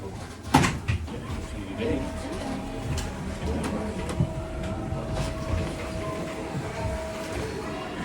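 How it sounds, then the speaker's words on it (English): A funicular-style train at the top of the hill in Bergen, with a sharp clunk early on and then a low rumbling hum with faint mechanical tones, heard under people talking. "The train can't physically go up further."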